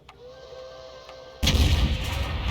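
A 105 leFH18B2 artillery gun in a tank battle game fires a round, one sudden loud boom that breaks a quiet engine hum and rolls out into a long, rumbling decay.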